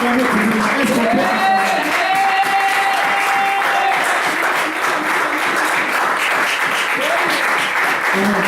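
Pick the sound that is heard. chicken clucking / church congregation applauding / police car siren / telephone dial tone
church congregation applauding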